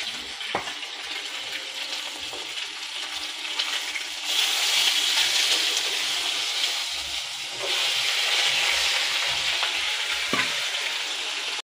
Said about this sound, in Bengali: মাছটা আমি ভেজে নিই